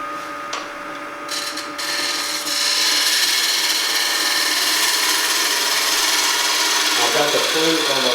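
Woodturning gouge cutting the inside of a mostly quarter-sawn wooden bowl on a lathe, a steady hissing scrape that starts quieter, builds after a few seconds and stays loud and continuous throughout.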